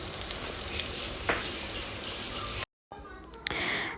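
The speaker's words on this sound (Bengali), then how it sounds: "কলমি শাক ভাজা।" Kalmi greens (water spinach) sizzle and fry in a pan with a steady crackling hiss, briefly cut off, then resuming with some stirring noise.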